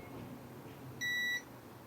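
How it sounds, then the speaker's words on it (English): A single steady multimeter continuity beep, clear and fairly loud, lasting about a third of a second over faint background hiss. "my multimeter, which is in continuity mode, which is the mode that beeps when we have a complete connection"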